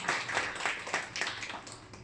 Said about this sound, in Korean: 우리 큰 박수로 부탁드립니다.